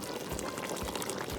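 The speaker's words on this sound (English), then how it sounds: "So immerse them into the sauce and let them also cook and simmer down together with this stew." Gambian spicy fish stew bubbling in a pot, a close, steady bubbling hiss with soft popping blips throughout and no voices.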